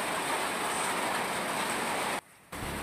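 Dense, continuous hiss of heavy rain pouring down at night in Abra, Philippines, briefly cutting out near the end before resuming, with no talking.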